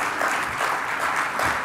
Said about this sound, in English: I want a round of applause for His Highness.